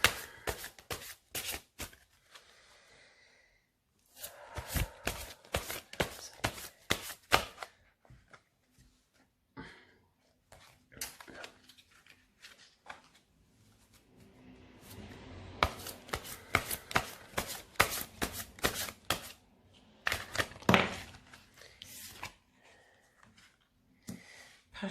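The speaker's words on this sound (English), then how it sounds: "These cards are so big, it is quite a challenge to shuffle them." Large, stiff tarot cards shuffled by hand in repeated rapid bursts of slaps and riffles, close and loud, with short pauses between rounds.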